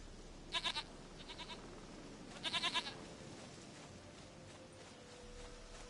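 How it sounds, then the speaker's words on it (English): Goat bleating in The Witcher 3 game, two clear quavering bleats close by, the second followed by a softer one, over quiet ambience with no talk. "Goat of mine, dearest, sweetest goat."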